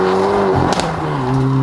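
A Hyundai i30 N with 275 hp drives hard on a winding up-and-down road, its exhaust loud and close with a sustained engine note that dips and rises through a brief shift.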